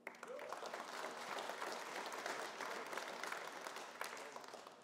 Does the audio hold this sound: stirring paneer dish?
no